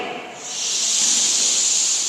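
A group of children imitate rain with a steady, breathy hiss that swells after a soft start and holds loud and even to the end, with no words spoken.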